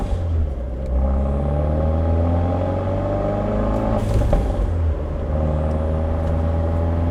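Abarth 124 Spider with its exhaust valves closed, cruising at night with windows shut: a steady, deep droning exhaust hum with layered engine tones that rise and fall gently, continuous and fairly loud from inside the cabin.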